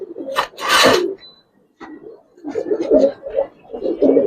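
A Giribaz coloring pigeon cooing close by in short bursts of soft, throaty calls separated by brief pauses, with a sharper rustle or flutter early on.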